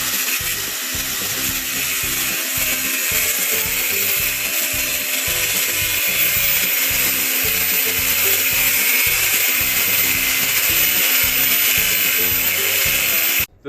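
A power tool cutting through steel on a welded, upcycled fire pit, a loud continuous high-pitched whine with a low rhythmic chatter beneath it, running steadily before stopping abruptly at the end.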